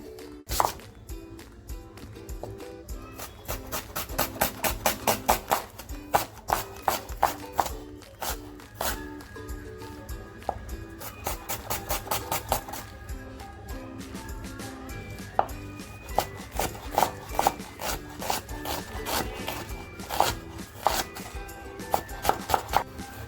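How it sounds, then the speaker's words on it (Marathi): Onion and tomato chopped with a knife on a board, a long run of quick, sharp, close taps at a steady, brisk rhythm, with brief pauses between bursts and no talking. "कांदा आणि टॅमॅटो कापून घेऊया"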